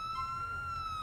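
A police car siren from the LCPDFR mod in a patrol around Boston wails steadily in a high, sustained electronic tone, loud and close over low engine rumble.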